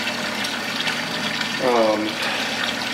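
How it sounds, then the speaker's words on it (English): Water running and filling a brewing boil kettle, a brief rising gurgle as it fills, over a steady background hum from an induction burner. "I'm going to put some more water in my boil kettle"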